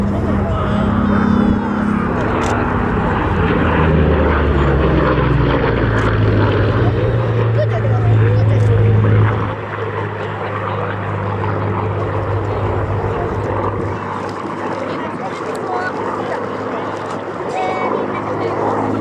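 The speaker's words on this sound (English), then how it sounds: "the elliptical wings of this beautiful Mark II Spitfire" Mark II Spitfire with elliptical wings performing at an RAF airshow display, a loud continuous piston-engine drone with shifting pitch as it passes, heard under a commentator talking over a public address system.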